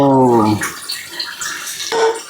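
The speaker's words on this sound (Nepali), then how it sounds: "यो डेक्चीको पानी यसरी फाल्यो" Hot cooking water from a pot of chawmin and pasta is poured out into a sink, a steady rushing splash that fades into drips, with a brief tone at the start.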